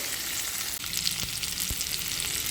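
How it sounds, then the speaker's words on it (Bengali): Potato pieces frying in a little oil in a pan, a steady close sizzle and crackle throughout, with a couple of faint stirring knocks. "বেশি তেলে রান্নাটা করব না তো একটু করে আলুগুলো এইভাবে কিন্তু ভেজে নেবো"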